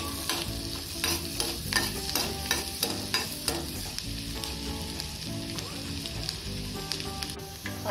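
Finely chopped garlic sizzling in melted butter for sweet corn soup, a lively close sizzle under quick rhythmic clacks and scrapes of a spoon stirring the pan, easing slightly toward the end.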